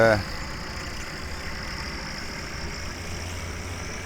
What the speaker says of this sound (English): here's the loader tractor on the, got a bit of a bump in the field there